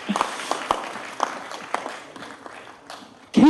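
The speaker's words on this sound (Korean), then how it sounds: "박수 한번 보내주십시오" Audience applause at a Korean science and technology entrepreneurship camp: a dense, steady patter of many hands clapping at moderate level for about three seconds, cut off by a voice starting at the very end.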